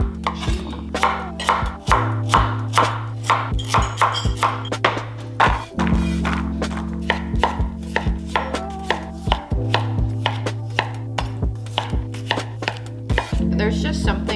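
Knife chopping beef, carrots and mushrooms on a cutting board for a slow cooker stew, a steady run of close, crisp thunks in quick rhythmic bursts with brief pauses between.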